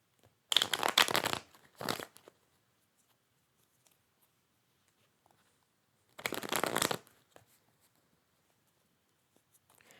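Tarot cards are shuffled by hand in three separate bursts: two quick riffles close together early on, then a longer one after a pause, with near silence between them.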